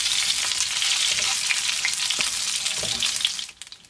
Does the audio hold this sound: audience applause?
no